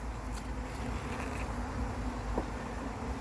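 Honeybees from the Fleet Lions colony hum in a steady, continuous drone close by, a dense low buzz with no breaks across the whole stretch.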